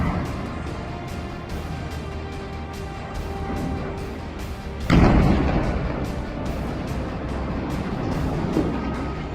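A roadside IED detonates under an IDF bulldozer in wartime combat footage, a single loud blast bursting out midway through steady rumbling background noise, followed by a lingering roar of debris and echo.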